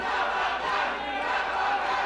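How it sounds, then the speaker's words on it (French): A wrestling crowd at a tag-team match cheers loudly and steadily, a dense, continuous roar of many voices with no breaks throughout. "Et la foule fermement acclame TDT."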